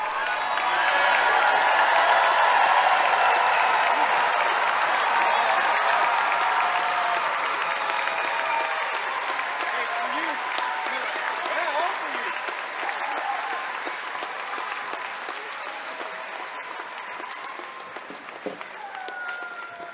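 A crowd applauds at a university business school commencement after the degrees are conferred, long continuous clapping with some cheering that peaks early and slowly tapers, with voices faintly audible beneath.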